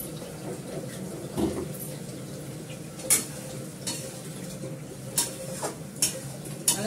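Meat curry is stir-fried in a pan. Oil sizzles steadily under repeated scraping and stirring, with sharp clinks of a utensil against the pan at irregular intervals.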